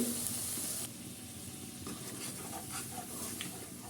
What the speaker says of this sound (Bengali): এরপর মশলাগুলো ভালো করে কষিয়ে নিব